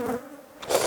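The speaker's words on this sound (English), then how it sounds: "I felt that bee walking on my lips" A honeybee buzzes right up close to a beekeeper, a loud, brief drone that dips and then swells again as it moves near.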